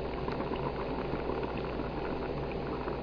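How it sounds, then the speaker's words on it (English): Liquid nitrogen boils and bubbles on contact with warmer copper bars, giving a steady, close, continuous fizzing and bubbling with no voices. "this is liquid nitrogen here. That's why you can hear it bubbling."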